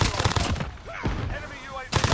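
Light machine gun fire in Modern Warfare, loud rapid automatic bursts at the start and end with a brief lull between them, and voices talking over the shooting.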